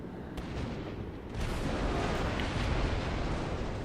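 Naval gunfire in a World of Warships battle involving Fuso and Furutaka ships, heard as a dense, continuous rumble of heavy cannon blasts that swells louder partway through, with no voices.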